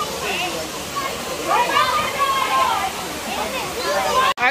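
A waterfall in Nagua, Dominican Republic roars in a continuous, rushing hiss close by, with voices talking over it and a brief knock near the end.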